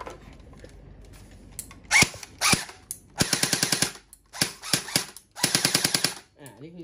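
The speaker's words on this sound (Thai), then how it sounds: "นี่คือเสียงปืนเดิมๆนะครับ" A JG Works M16A1 airsoft gun on its stock battery fires in short bursts and single shots, sharp rapid mechanical rattling clicks in close, loud volleys separated by brief pauses.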